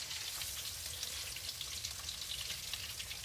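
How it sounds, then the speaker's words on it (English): Large keto zero-carb fried shrimp sizzle steadily in hot oil, a dense, continuous crackle with fine popping, close and moderately quiet, with no talking. "So when you're frying, you don't want it to get away from you."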